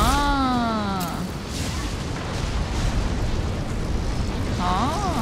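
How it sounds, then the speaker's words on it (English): A flashbang detonates in the video game Mass Effect 2 as a loud, sustained roaring burst, with voices and a rising tonal effect heard around it. "Watch out, flashbang!"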